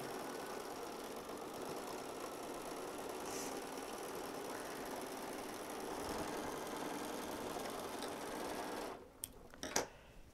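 A sewing machine runs a steady, continuous whir while stitching a neat seam through layered fabric thicknesses, then cuts off abruptly near the end, leaving a few faint clicks.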